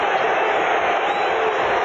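Football stadium crowd at a 1979 Bills at Jets game, a dense continuous roar heard throughout with a voice speaking over it.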